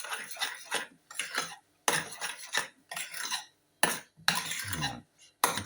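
A utensil folding and scraping through a thick tiramisu-style mixture in a bowl: irregular rubbing, scraping strokes in bursts with short pauses, close and fairly loud, no talk.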